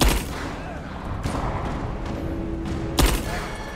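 A long-distance gunshot in Rise of the Tomb Raider, with sharp cracks near the start and around the three-second mark over a steady rumbling game ambience, moderately loud.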